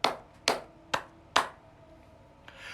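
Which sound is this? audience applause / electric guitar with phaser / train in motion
audience applause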